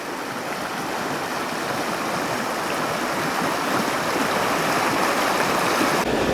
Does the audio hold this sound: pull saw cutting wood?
no